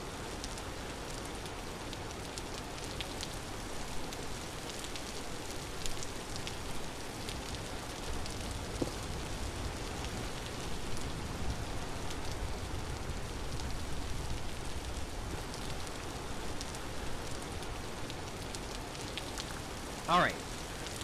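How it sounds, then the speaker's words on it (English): Heavy, wind-driven rain falls in the video game Vintage Story, a steady even hiss of drops that runs unbroken throughout, with a brief sharper patter near the end. "look at how sideways the rain is going"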